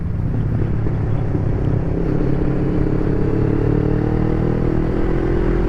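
Motorcycle descending the Col de Saverne mountain pass, a loud, steady engine drone with rumbling wind noise close up, continuous and without speech.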